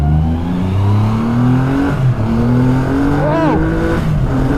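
A 2020 Triumph Rocket 3 GT motorcycle accelerates hard, its loud, close engine note climbing steadily with a brief dip at a gear change, then pulling up again under wind rush.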